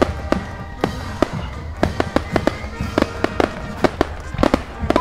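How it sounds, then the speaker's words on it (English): Fireworks explode in a rapid, irregular string of sharp cracks and pops, loud and close, some bursts overlapping over a low rumbling background. "This is the fireworks"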